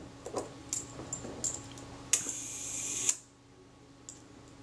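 A Braun Paxette camera shutter under repair fires with a series of small close mechanical clicks and ticks, then a louder snap with a brief whirring release lasting about a second, followed by quiet and one faint final tick.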